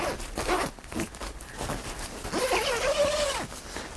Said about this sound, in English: let me unzip this thing here too.